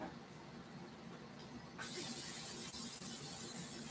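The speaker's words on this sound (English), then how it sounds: "so I'm going to spray this pan" Cooking spray hisses onto a pan in a kitchen, a sudden steady aerosol burst starting partway through and continuing loudly to the end after a quiet stretch.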